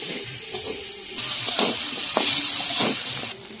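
Potatoes frying in an uncovered pan, a bright steady sizzle that swells after the first second, with a few stirring clinks and scrapes, and no talk.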